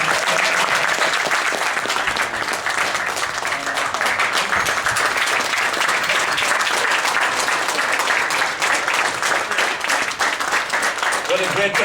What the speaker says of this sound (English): let's give a round of applause to the man